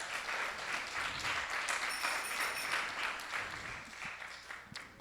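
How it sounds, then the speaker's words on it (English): A temple audience claps steadily for several seconds at moderate distance, a sustained patter of many hands with no voices over it. "Let's give a round of applause for them."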